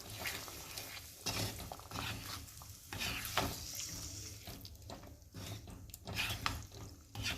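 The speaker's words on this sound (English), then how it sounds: "I will also add the prawn stock that we had collected earlier. Give everything a good mix." Prawn curry with prawn stock is stirred in a pan on the stove, giving a steady soft sizzle with scraping strokes and occasional utensil knocks, close and moderately loud, with no talking.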